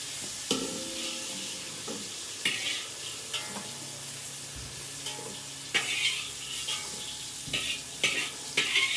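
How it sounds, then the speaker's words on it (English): Mushrooms sauté in a pan with a steady, quiet sizzle, broken by occasional sharp scrapes and stirring knocks of a utensil against the cookware. "I don't know if you can see our mushrooms. They're sauteing."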